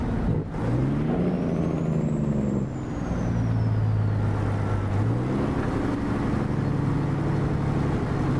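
A truck in American Truck Simulator passes close by with a loud, wavering engine drone and shifting harmonic tones, plus an air brake hiss, running steadily throughout with no talk.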